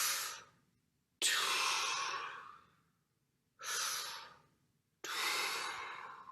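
A person demonstrates natural body breathing with four close, breathy airflows, loud sigh-like inhales and exhales separated by short silences, unhurried and alone without speech.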